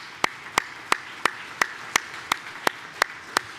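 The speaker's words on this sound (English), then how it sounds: "it's worthy of a round of applause from all of you in this room" Quiet, evenly spaced claps from a conference audience in a meeting room, a dozen or so sharp rhythmic hand strikes in unison over a soft murmur of scattered clapping.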